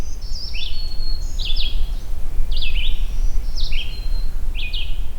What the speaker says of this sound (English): It's a distant magnolia warbler too